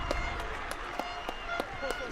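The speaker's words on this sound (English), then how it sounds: "The crowd are ecstatic." A rugby crowd at a schools quadrangular tournament roars steadily after a successful penalty kick, with a continuous wash of cheering and scattered claps under a commentator's voice.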